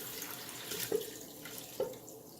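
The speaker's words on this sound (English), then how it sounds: "So I just use a strainer so no big chunks come into the broth." Broth poured through a kitchen strainer gives a steady watery splash and trickle, with two brief louder splashes partway through, close and alone.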